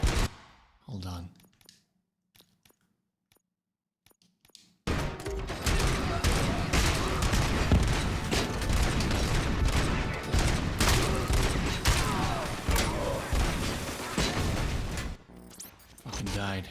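Robocop's gun firing in Robocop Rogue City: after a near-silent opening with a few clicks, a sustained loud barrage of rapid gunfire and impacts runs continuously, then tapers off near the end.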